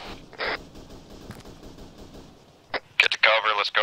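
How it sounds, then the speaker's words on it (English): Distant and nearer gunfire crackles in the military shooter ArmA 3, scattered bursts and sharp shots with radio-like chatter and a voice in between. "Hearing gunshots front."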